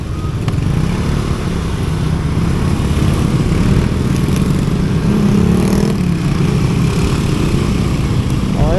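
A Suzuki Burgman Street 125 EX scooter climbs uphill near Nagcarlan, Laguna, its engine giving a steady, loud, buzzing drone with rushing wind noise and no pauses.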